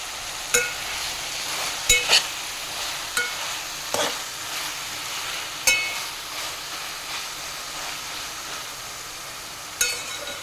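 Tomato methi pachadi cooks in a pan with a low, steady sizzle, broken by about ten distinct scraping stir strokes and clinks of a spoon at irregular intervals.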